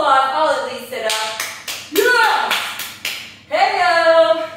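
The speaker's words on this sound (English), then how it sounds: "I give you a massive round of applause" A short burst of hand clapping, several quick claps, comes mid-way through at the end of a no-equipment full-body workout, with a person talking loudly before and after it.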